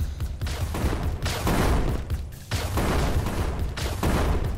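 Explosions in the video game Crystal Defense, a rapid crackling barrage of bursts in repeated waves, loud and dense with brief lulls between clusters.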